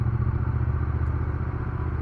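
Triumph Bonneville motorcycle engine running in fourth gear with some vibration, a close, loud, steady low throb with a fast even pulsing rhythm, no talk.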